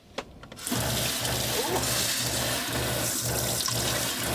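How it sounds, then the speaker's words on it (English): Water runs strongly from a new kitchen faucet in a truck camper, a steady close rush into the sink with a faint pump pulse beneath. "I'll show you the pressure."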